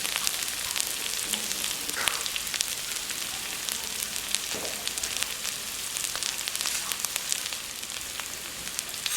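Fresh chilies stir-frying in a pan for spicy catfish stir-fry, a steady close sizzle with occasional scraping stirs, no voices over it.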